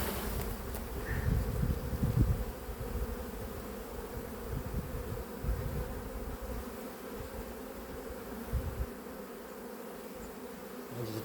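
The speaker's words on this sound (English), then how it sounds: "Do I have enough bees in this hive?" Honey bees buzz steadily around an opened hive at season's end, a dense, continuous hum close by with occasional louder passes as individual bees fly near, and no talking.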